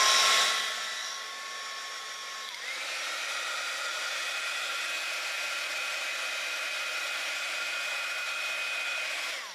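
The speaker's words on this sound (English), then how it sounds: "So let's just pop my heat gun on there." A heat gun blows steadily over poured resin to pop surface bubbles, a continuous whirring hiss with a tonal whine that drops slightly in pitch after a couple of seconds, then holds steady and close throughout.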